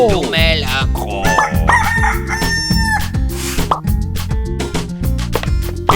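A rooster crows repeatedly and loudly, up close, its drawn-out calls layered over a bouncy rhythmic music backing with plopping beats.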